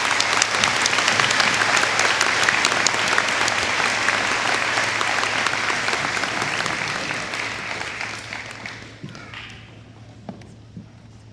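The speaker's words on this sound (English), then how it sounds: "Let's give these ladies a round of applause." Sustained crowd applause at a school commencement honoring graduating students, dense steady clapping from a large audience that gradually thins and fades toward the end with a few scattered claps.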